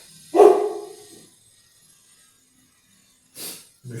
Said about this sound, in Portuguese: tá aí o meu cachorro